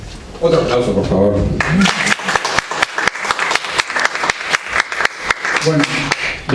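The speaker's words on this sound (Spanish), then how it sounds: "Otro aplauso, por favor." A crowd breaks into steady clapping that carries on for several seconds, with voices talking over the applause.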